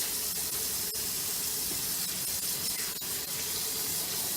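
Hot water running steadily from a kitchen tap to rinse off Jif cream cleaner, a continuous close splashing hiss with no voices.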